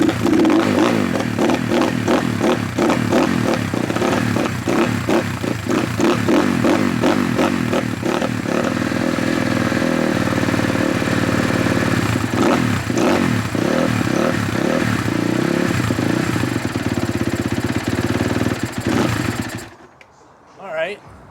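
A 2013 Kawasaki KX250F dirt bike, a non-running machine, is kicked repeatedly until its engine catches and runs loud and rough, then cuts out abruptly near the end.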